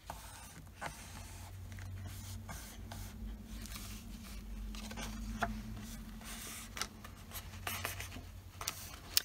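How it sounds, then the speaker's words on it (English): Paper card stock is pressed and folded along a score line for a journal card, giving soft close rustles and creases under a steady background hum. "I'm going right up to that score line, pressing down, and I'm folding this over"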